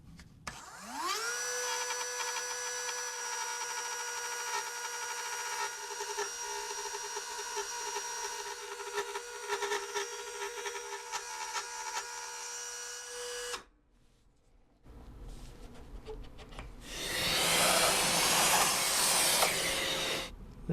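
A drill bit cuts a guitar soundhole into a wooden top, a motor spinning up into a loud, steady whine with small fluctuations, briefly stopping, then followed by a broad hissing rush.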